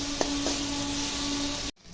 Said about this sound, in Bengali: পেঁয়াজগুলো এখন কিছুক্ষণ ভেজে নেব